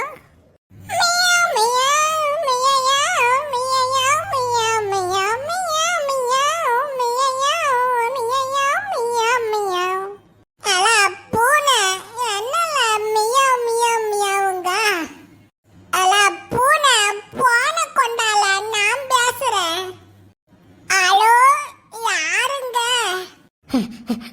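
A high cartoon-style voice repeatedly imitates a cat's meow in a long run of bright, wavering calls, loud and close, with brief pauses between bursts.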